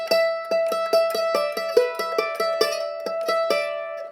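A guitar plays a shuffle song, sliding into double unison notes in a steady run of plucked, ringing attacks, about two per second, clear and close with no voices.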